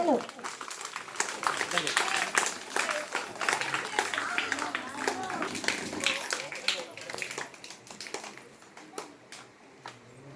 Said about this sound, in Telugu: గట్టిగా చప్పట్లు కొట్టాలి పిల్లలు